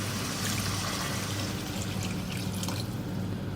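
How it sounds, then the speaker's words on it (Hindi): Water pours into a cooking pot of spiced potatoes and chickpeas, a steady close splashing rush that runs without pause. "2 कप मैंने पानी डाल दिया"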